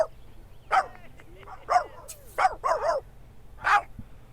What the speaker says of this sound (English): He's going to bark about it.